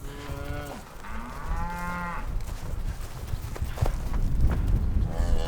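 Cows and calves moo repeatedly in a cattle pen, with several drawn-out, overlapping calls, some near and loud, others farther off, over a shuffling background of livestock noise.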